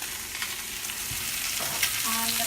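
The base for a Spanish rice dish sizzles and crackles steadily in a pan, stirred now and then, and a short tonal sound enters near the end.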